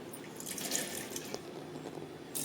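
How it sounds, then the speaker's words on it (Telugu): Water is poured into a mixer jar holding soaked, washed dal for idli batter, making a close, trickling, dripping splash that runs for a couple of seconds. "కొద్దిగా వాటర్ వేసి గ్రైండర్ చేద్దాం."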